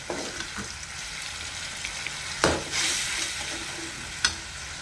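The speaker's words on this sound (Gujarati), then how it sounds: "જો આ સરસ મજાની ગ્રેવી ચડી રહી છે" Gravy for stuffed eggplant and potato curry cooks in a pan with a steady, close sizzle. Two brief louder bursts of frying, likely from stirring, rise over the hiss.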